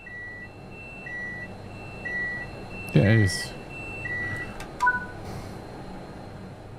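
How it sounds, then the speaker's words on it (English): In Train Sim World 5, a cab's tilt authorization and speed supervision alarm sounds as a series of faint, repeated high electronic beeps under a low cab hum, briefly interrupted by a short spoken phrase. "This is the tilt authorization and speed supervision alarm and will need to be acknowledged."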